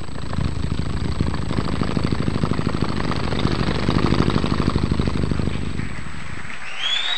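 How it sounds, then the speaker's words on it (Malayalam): A fishing boat fitted with a Yamaha engine runs on the sea off the coast, giving a steady, fairly loud throbbing chug that continues without a break and drops away near the end. "ആ യമഹ എഞ്ചിൻ ഫിറ്റ് ചെയ്തുള്ള ശബ്ദം കുറച്ചുകൂടെ വ്യത്യാസമാണ്"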